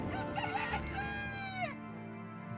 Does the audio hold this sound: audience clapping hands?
no